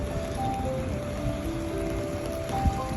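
Steady rain falls in a dense, even hiss of drops on surfaces, constant and fairly loud throughout with no voices.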